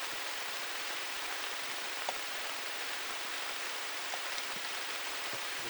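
Steady rain falling outdoors during a deer hunt in Arkansas: a constant, even wash of noise with occasional soft drop ticks, no voices.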